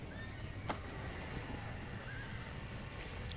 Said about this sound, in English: trying to try and get the horses out.